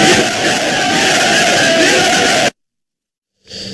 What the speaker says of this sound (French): des milliers de citoyens étaient dans les rues de Conakry pour applaudir les nouvelles autorités du pays